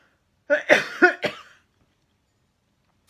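A short burst of four harsh coughs in quick succession, close and loud, followed by silence.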